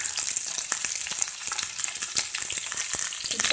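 Onions frying in a pan for a cabbage stir-fry, a steady close crackling sizzle with fine popping throughout and no talking.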